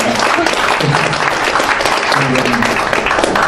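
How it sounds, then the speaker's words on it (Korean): Audience applause at an international diplomacy and security forum, loud, dense, sustained clapping from a crowd filling the whole stretch, with voices mixed in. "우리 박수 한번 감사와 동료입니다."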